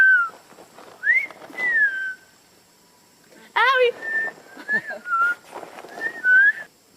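A person whistles short, sliding bird-like notes in bursts with pauses between, close up, imitating birdsong with a few rising and falling trills.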